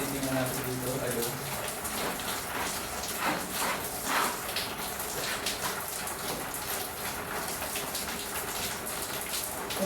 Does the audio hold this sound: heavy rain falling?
yes